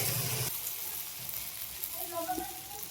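Spices, onion and soybean chunks sautéing in a pan make a bright, loud sizzle for half a second, then settle into a softer continuous frying hiss with faint stirring clinks, no talk.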